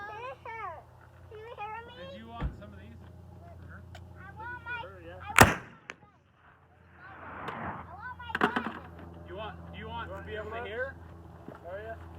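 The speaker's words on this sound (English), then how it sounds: "80 grains Pyrodex Select, shot 4." A black powder muzzleloader rifle loaded with 80 grains of Pyrodex Select fires once, a single sharp, loud report midway through, with people talking before and after the shot.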